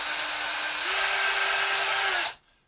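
Loud, steady high whine of a drill bit boring through a 3D printed part, with a slight rise in pitch partway through before the drill cuts off abruptly.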